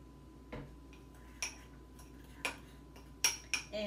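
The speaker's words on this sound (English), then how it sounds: "And then I am just going to mix it up." A homemade cleaning paste is mixed in a container, giving a handful of sharp, separate clinks and taps over a quiet background.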